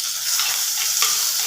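Onions, curry leaves and tomato frying and being stirred in a pan for a Tamil egg curry, a steady close sizzle with scraping stir strokes throughout, no talk.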